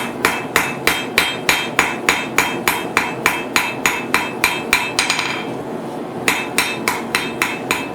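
Steady metallic hammer blows on hot metal on an anvil ring out at a brisk, even rhythm, pausing briefly for a second before the strikes resume, loud and close, while forging a fork.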